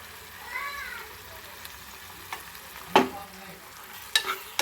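Masala with cooked tomatoes fries in a pan, a soft steady sizzle broken by a few sharp scrapes and clinks of stirring. A faint animal-like mewing sound appears early on.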